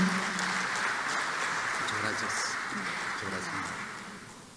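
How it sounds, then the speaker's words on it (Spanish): An audience at a symposium on circular economy and decarbonization applauds to welcome an engineer vice-president, a steady wash of many hands clapping that fades slowly toward the end, with some talk underneath. "Recibimos con un fuerte aplauso a nuestro ingeniero vicepresidente Alex Contreras Paredes."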